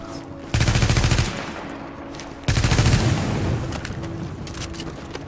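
Automatic gunfire in the video game Tom Clancy's The Division, two loud bursts of rapid shots, each about a second long, followed by echoing tails and quieter scattered reports.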